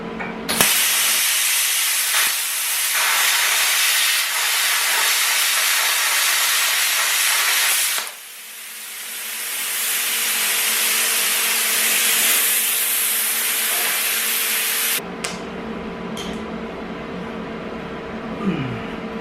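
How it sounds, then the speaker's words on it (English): A PrimeWeld Cut 60 plasma cutter slices quarter-inch steel with a loud, harsh, continuous hiss. The hiss dips briefly partway through, surges again, then cuts off and leaves quieter background noise. "Go over there and cut some steel."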